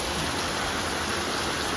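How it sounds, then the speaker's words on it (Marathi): Heavy rain pours down in a dense, constant hiss, loud and close, with no voices over it. "अचानक पाऊस लागला"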